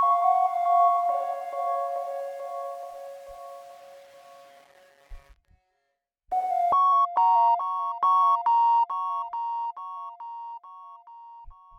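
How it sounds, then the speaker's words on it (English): A Serum sine lead synth with delay and portamento glide plays alone, with clear tonal notes sliding between pitches and echoing tails. A fading phrase drops to near silence, then a brighter, steady run of pulsing repeated notes enters. "And then this last element was just like a serum sine lead."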